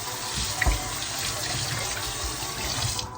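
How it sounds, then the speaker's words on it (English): Dishes scrubbed with a used green or rooibos tea bag under a running kitchen tap, a steady rush of water with soft rubbing close by. "I save Hope's tea bags, green tea and Rooibos, and give it a nice little scrubby scrub"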